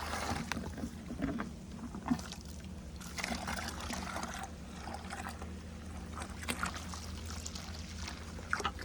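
Water from a hand pump pours and splashes in a steady, continuous stream close by, with a soft trickling texture and no voices.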